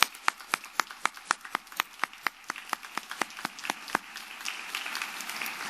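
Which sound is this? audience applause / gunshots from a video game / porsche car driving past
audience applause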